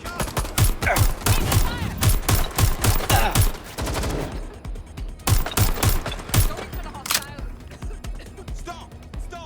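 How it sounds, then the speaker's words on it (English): Rapid bursts of gunfire in the Watch Dogs Legion shooter, loud and close, firing in repeated volleys with a short lull in the middle, mixed with shouting voices. "Shots fired!"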